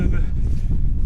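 Strong wind buffets the microphone during an outdoor running race, a steady loud rumbling roar with no pauses.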